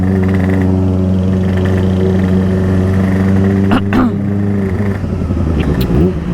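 A Kawasaki ZX25R motorcycle engine hums steadily while riding, then revs up with rising pitch around the middle and again near the end, loud and close.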